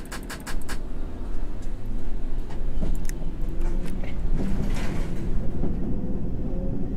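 A London Underground train in the World of Subways 3 simulator pulls away from a station, a steady loud rumble of wheels and motor with faint high squeaks and clicks throughout.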